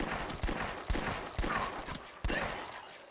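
Revolver gunfire in the zombie-defense Flash game The Last Stand: five or six evenly spaced, moderately loud shots crack out one after another against a steady game background.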